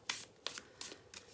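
Tarot cards riffled by hand at close range, four soft papery bursts evenly spaced, quiet and free of talk.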